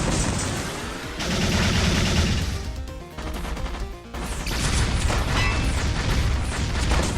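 A rocket launcher fires in the video game Bugs Must Die during a three-boss fight, producing loud, dense bursts of explosions and booming crashes that continue almost without a break, with a short dip partway through.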